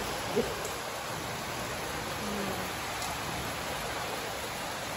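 Heavy monsoon rain pours steadily outside a home in India, a dense, even hiss with faint drips and no breaks, fairly near and alone without talk.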